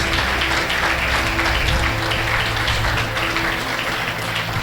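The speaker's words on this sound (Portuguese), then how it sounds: "Aplauda o Senhor Jesus Cristo." Sustained applause from a church congregation at a Portuguese-language worship service, a dense, steady wash of clapping that holds at an even level throughout without pause.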